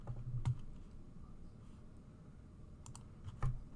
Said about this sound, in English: I can't type.